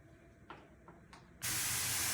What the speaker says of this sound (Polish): Na patelnię wlałam dwie łyżki oliwy z oliwek i podsmażam ładnie pieczarki.